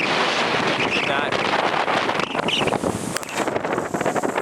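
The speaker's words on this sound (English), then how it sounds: "I think I'm not sheltered from the wind at all" Strong wind buffets the microphone in a loud, continuous rumble, with splashing water in the background and a voice partly buried beneath it.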